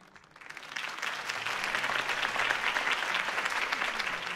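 A crowd applauds after a campaign speech in Batman: The Telltale Series, the clapping swelling within the first half second into steady, dense applause that holds loud to the end with no talk over it.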